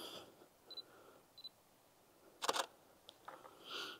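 A Canon R6 camera fires its shutter at 24mm, giving a few faint, close clicks and one sharper, louder mechanical snap partway through, with nobody speaking.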